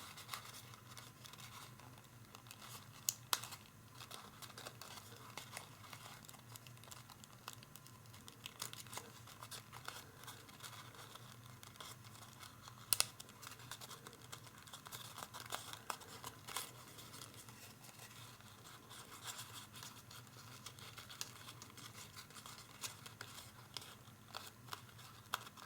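Paper being folded and pressed by hand for an origami tessellation cube: faint, quiet crinkling and soft ticks scattered over a low room hiss, with no talking.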